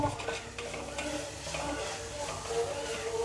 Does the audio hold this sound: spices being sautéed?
yes